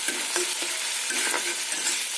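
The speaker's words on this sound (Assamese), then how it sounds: "এইখিনি মই একদম ল' ফ্লেমত ৰাখি কেনে মই এইখিনি ভাজি ল'ম" Onions frying over a low flame, with a quiet steady sizzle and intermittent scraping stir strokes in a pan, close and alone without voices.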